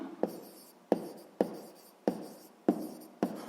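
Pen writing by hand in a Ukrainian 6th-grade maths exercise: six scratchy strokes with sharp onsets, about one every half second, close and fairly quiet with no talk.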